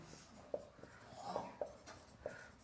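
Pen or chalk writing on a board or paper, a few soft, brief scratching strokes spaced irregularly, faint and close.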